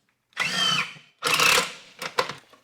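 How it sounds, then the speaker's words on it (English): A power drill drives screws into the wooden sides of an Amish shed kit, two sustained whirring bursts followed by a few short stuttering pulses, close and loud. "And I'm going to drill the sides in first."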